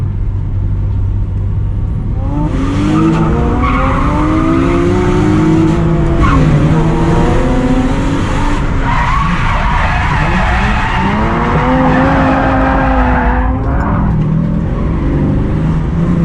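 A drift car sliding around a night drift track at Driftland in Scotland, engine roaring hard and continuously while tyres squeal in long wavering howls, very loud and close throughout.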